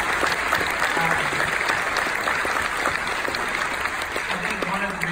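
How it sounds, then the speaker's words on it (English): A steady, full round of audience applause fills the room at a creative teaching event, dense and sustained throughout, with a few faint voices under the clapping. "Let's give these ladies a big round of applause."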